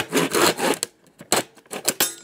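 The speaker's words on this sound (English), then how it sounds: "If you just let the weight of the saw do it, it seems to be better." A Parkside 3-in-1 hand saw cuts through wood in broad rasping strokes, a long sustained stroke first and then several shorter, irregular bursts with brief gaps, close and fairly loud with no voices.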